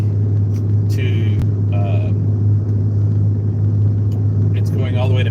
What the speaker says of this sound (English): I'm in my truck. I'm driving.